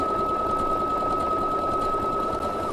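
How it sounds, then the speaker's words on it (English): A sewing machine stitches along a fabric edge using its presser foot while blind hemming and overcasting, a steady fast whirring hum that runs close and continuous before stopping abruptly at the end. "I'm going to stitch pretty quick so you don't have to listen to this go for a long time"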